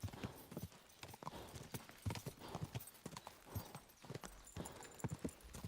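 Horse hooves clip-clopping in the medieval open-world game Kingdom Come: Deliverance II, a steady rhythmic series of fairly close hoofbeats over background game ambience, without talk.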